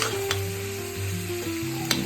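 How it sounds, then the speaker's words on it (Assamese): Cauliflower and potatoes fry with turmeric in a pan at home, a steady close sizzle with a few sharp clicks of utensils and a low hum of a gas burner underneath. "মই ফুলকবি আৰু আলু ভাজি আছোঁ।"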